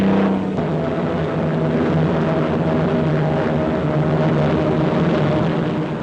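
Propeller-driven RAF aircraft at the Hendon air pageant droning loudly overhead, a sustained engine roar with steady tonal hum that stays strong and even from start to finish.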